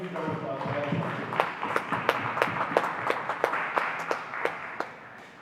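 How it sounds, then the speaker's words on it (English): Audience applause at the MountainHacks 2024 hackathon opening ceremony, thanking sponsors: a steady crowd of clapping with sharp individual claps standing out, filling the hall for several seconds before fading. "let's just give another huge round of applause for all the sponsors."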